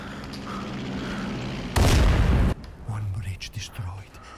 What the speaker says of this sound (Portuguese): Uma ponte foi destruída.